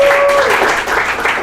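A short burst of audience applause in a hall during a talk on illegal online lending apps, steady clapping from a crowd, with a tone briefly sounding at the start.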